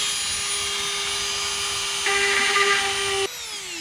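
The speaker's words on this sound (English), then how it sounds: "I got this Dremel with one of those drill bits that cut." A Dremel rotary tool fitted with a cutting bit whines at a steady high pitch close by, rising in load for about a second as it bites into a plastic bucket, then dropping in tone near the end.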